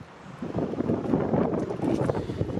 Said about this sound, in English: I know it's a bit windy